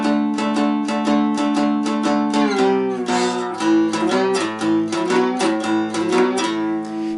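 A two-string cigar box guitar plays a twelve bar blues progression, plucked notes ringing out in a steady strumming rhythm, close and clear with no voices.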